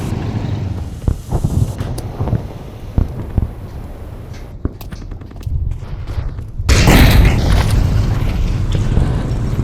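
A bomb blast in the Pavlov VR WWII shooter during a Battle of Nijmegen push: scattered gunfire and rustling, then a loud, sudden broadband explosion that roars on to the end.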